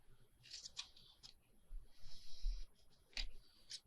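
Scissors snipping a label for a handmade green journal: a few quick, faint crisp cuts spaced out in a quiet room, close by and alone.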